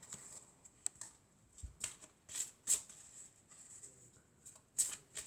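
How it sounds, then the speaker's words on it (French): An oracle card deck is shuffled by hand, giving quick papery riffles and flutters in several short bursts with a brief slap as a card is drawn, close and soft, with no one speaking. "je vais prendre une carte de l'oracle des amoureux"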